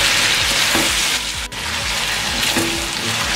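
Chicken fries with ginger garlic paste for a chicken korma, sizzling steadily in a pan while a spoon stirs and scrapes in repeated strokes, close and loud with no talk.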